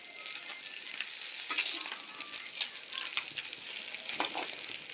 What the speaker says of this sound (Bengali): রূপচাঁদ মাছ ভাজা হচ্ছে।